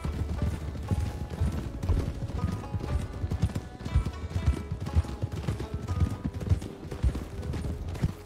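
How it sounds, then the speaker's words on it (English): Rhythmic clip-clop of horse hooves trotting steadily in Red Dead Redemption 2, with a faint whinny and background game sounds throughout. "I'm going to go ahead and get on my horse"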